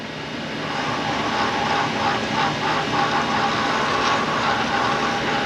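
A wood lathe spins at about 4,000 RPM while wine stoppers are turned, giving a steady, loud whirring drone with a bright high hum that holds evenly throughout.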